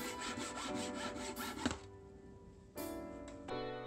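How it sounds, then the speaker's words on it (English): A handsaw cuts wooden pieces for a slatted shoe bench down to length, with quick rhythmic rasping strokes followed by a pause and a final short burst of sawing. The sawing is close and no one speaks. "A handsaw makes quick work of cutting these two pieces down to their final length of 18 inches long."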